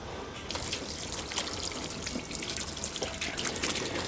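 Water splashes and trickles steadily over a car's paintwork as polish is washed off, a close, continuous hiss with small bursts of spattering.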